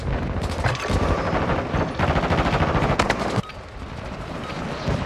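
Rapid automatic gunfire rattles close and loud in the Warzone video game, dense bursts of shots in quick succession with a short pause before firing resumes more distantly.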